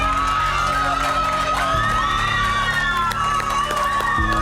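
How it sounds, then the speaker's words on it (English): At the grand final of a budget presentation contest, a crowd cheers and whoops in a loud, continuous roar over a steady low hum, with voices rising and swelling as the winner is celebrated. "Round of applause for you, Cornelius Chola."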